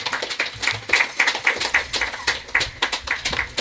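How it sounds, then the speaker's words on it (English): Audience applause at a sports gathering honouring a cricket academy sponsor in Nevis, a steady patter of many hands clapping at moderate loudness with no talk over it. "so just give it a round of applause."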